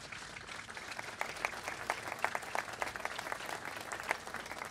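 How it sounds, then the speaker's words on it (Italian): A crowd at the Pope's meeting with migrants at a welcoming centre in Ħal Far, Malta, applauds steadily, a dense continuous patter of many hands heard from a distance, fairly even and moderate in level. "Lo facciamo con un applauso tutti insieme."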